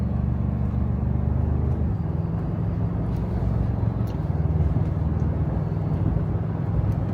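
A Toyota Tacoma cruises steadily at about 50 mph, with a continuous low road and engine drone. Tire hum runs underneath, and the pitch drops slightly at one point.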